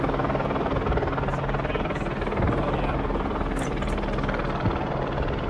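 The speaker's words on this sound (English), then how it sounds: "helicopters in Los Angeles" A helicopter flies overhead in Los Angeles, its steady rotor drone and engine noise holding loud and continuous throughout, with no voices.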